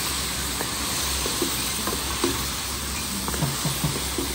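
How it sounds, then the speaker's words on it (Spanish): Garlic sofrito frying with crabs in a covered pan over lowered heat, a steady soft sizzle and hiss with small pops and crackles scattered throughout, close and moderately quiet, no talk. "El refrito se sigue todavía cristalizando."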